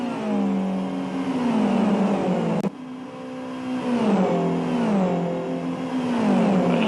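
GT race cars scream down a straight in a racing video game, high engine notes rising in steady upshift cycles with a brief break, loud and continuous with no talk.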